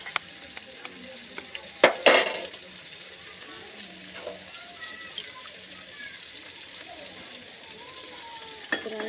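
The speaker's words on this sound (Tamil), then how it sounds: "இப்போ அடுத்த முட்டை பொரிச்சு ஊற்றிக்கலாம்." An egg fries in hot oil in a pan, a soft continuous sizzle with a few sharp clinks of a utensil near the start and faint scattered clicks throughout.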